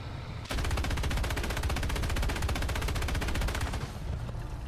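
A rapid machine-gun burst in the War Thunder video game, a single long stream of evenly spaced loud shots lasting about three seconds before cutting off, with faint background noise around it.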